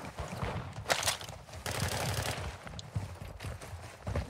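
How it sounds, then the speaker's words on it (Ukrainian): Gunfire in the Call of Duty Modern Warfare II DMZ mode crackles as a quick sequence of sharp shots and bursts, moderately loud over a busy game soundscape with no talking. "О, стріляють уже по нам"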